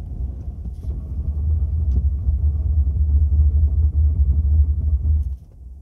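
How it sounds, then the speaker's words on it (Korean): A low, pulsing mechanical rumble from a car, juddering rapidly as the ABS brakes engage on a snowy downhill road, then cutting off near the end. "ABS 잡히는 소리 들리죠?"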